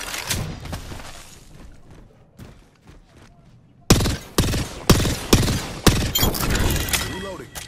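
Rapid video game gunshots ring out in a sharp series of evenly spaced, loud blasts after a quieter stretch of background game noise and talk.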